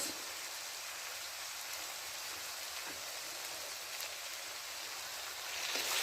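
Noodles sizzle steadily in a hot pan as sauce is added, a constant hissing frying sound close by with a slight rise in intensity near the end and no talking.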